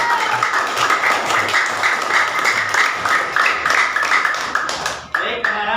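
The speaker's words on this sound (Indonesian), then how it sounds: "terima kasih tepuk tangan" Schoolchildren in a classroom clap together in a dense, steady round of applause that lasts several seconds before fading out.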